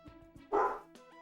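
A single short, loud dog bark rings out close by, set against faint background tones from a Sims 3 game.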